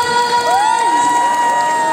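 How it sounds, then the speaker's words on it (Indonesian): Audience at a Waseda Boys meet and greet cheering and clapping, a continuous crowd roar with high shouts and whoops layered on top, loud and close for the whole two seconds. "Tepuk tangan untuk semuanya buat Waseda Boys"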